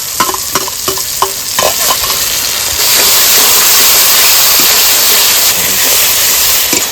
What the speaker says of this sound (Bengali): মশলাটা বেশ ভালো করে কষাতে হবে